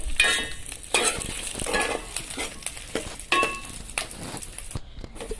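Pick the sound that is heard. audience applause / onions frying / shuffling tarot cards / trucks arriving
onions frying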